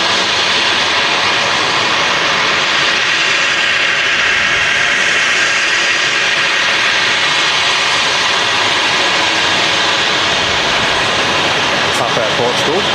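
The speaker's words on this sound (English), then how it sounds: "Tap Air Portugal, Embraer 190, that's in from Lisbon" A TAP Air Portugal Embraer 190 arriving from Lisbon roars and hisses loudly and continuously at Manchester Airport, with a voice speaking over the jet noise.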